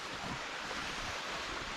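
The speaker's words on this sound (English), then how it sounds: "Bit of a brook river though." A brook or small river runs steadily beside a roadside pull-off, a continuous broad rush of flowing water with some wind noise and no voices.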